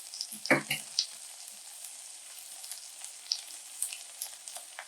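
Garlic fries in a pot for beef goulash, a fairly quiet, even hiss with a few crackling pops and a clack of a utensil near the start.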